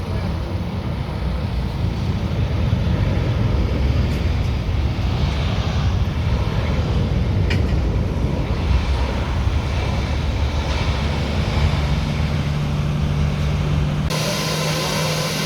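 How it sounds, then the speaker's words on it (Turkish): Turkish Airlines passenger jet carrying the first tourists, arriving at an airport; a steady, loud broadband engine roar runs throughout, with a lower hum emerging near the end. "ilk turist kartesini taşıyan Türk Hava Yolları uçağı şu anında görüyorsunuz"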